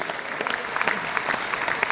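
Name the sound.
audience applause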